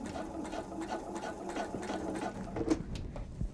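A sewing machine stitches the side seam of a ten-pocket travel tote, running at a slow, cautious pace with a steady mechanical whir and rhythmic needle clatter, close and alone.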